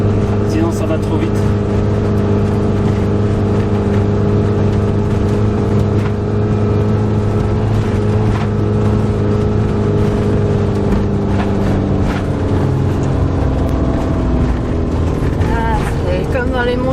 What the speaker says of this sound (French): Je suis obligé de passer à la seconde pour enlever des tours parce que sinon, ça explosait le moteur.